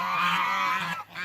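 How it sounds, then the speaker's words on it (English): Geese honk on cold water, a loud, nasal run of calls close by, bunched into one sustained burst with a brief gap before a final honk. "Geese coming in to mate, because they really like mating on top of water."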